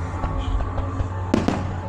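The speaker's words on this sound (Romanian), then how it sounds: "Un show de artificii, cum am văzut anul trecut la CF Moto." Festival fireworks display at a grill fest, heard from the crowd as a steady rumbling background with two sharp, loud bangs close together near the end.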